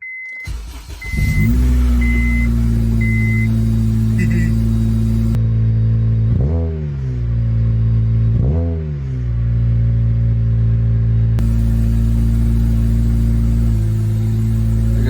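A few beeps, then an Acura RSX with an HKS Hi-Power aftermarket exhaust cranks and starts with a deep, loud exhaust rumble, idles, and revs twice before settling back.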